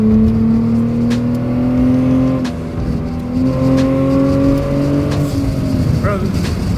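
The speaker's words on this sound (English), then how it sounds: "It sounds like a fucking turbo on it. You can hear it spooling up" A Hyundai Tiburon with an aftermarket exhaust accelerates hard from inside, its engine drone climbing through gears with a rising whine and brief dips at shifts, loud and close, with people talking underneath.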